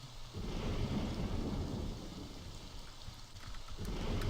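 Steady video game rain falling with deep rolling thunder rumbling underneath, a continuous summer-storm wash with no talking.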